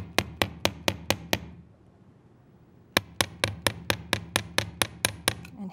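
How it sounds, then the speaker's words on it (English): A small hammer flattens wire-wrapped jewelry loops in a quick run of about six sharp metallic taps, a brief pause, then roughly thirteen more evenly spaced strikes, close and crisp. "I can actually even hammer my little wrap loops too"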